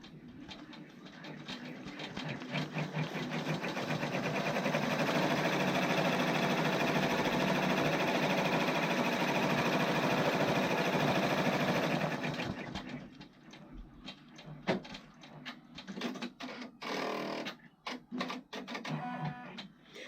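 An embroidery machine stitches placement lines on a hooded towel in a steady, loud mechanical whir for about twelve seconds, then stops, leaving intermittent clicks and handling noises nearby.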